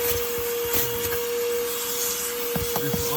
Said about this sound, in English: just gonna vacuum out my my well over here, my foot well.